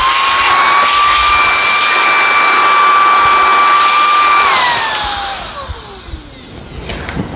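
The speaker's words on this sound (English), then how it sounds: "Let me just vacuum this off really quick" A Dirt Devil Endura Max cyclone vacuum cleaner gives a loud, steady whine with a high tone that drops in pitch as the motor spins down near the end, leaving quieter rustling.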